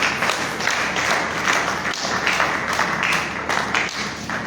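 Congregation clapping at a church worship night with a prophet, a rhythmic patter of hands mixed with scattered thumps, moderately loud and continuous throughout.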